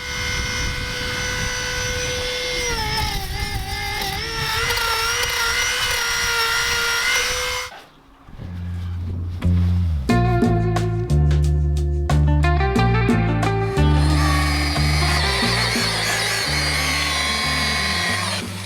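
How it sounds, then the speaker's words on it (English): A power drill whines steadily as it bores new holes in the wooden deck of a boat during an anchor windlass installation, loud and close, then stops briefly and restarts in a series of short bursts. "then we can drill brand new holes in all of this"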